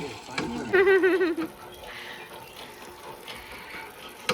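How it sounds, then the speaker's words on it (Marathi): An old-style borewell hand pump in a Konkan village creaks and squeaks through a rhythmic burst of strokes as water is drawn, followed by softer watery sounds, with people talking nearby. "हे जुनी पद्धतीची बोरवेल जी बऱ्याच ठिकाणी असते पप्पा बोरवेलचं पाणी काढतात"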